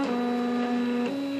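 A QU-BD Two-Up 3D printer runs with a steady buzzing drone and a loose piece rattling against the frame, a constant mechanical hum heard close by with no talk.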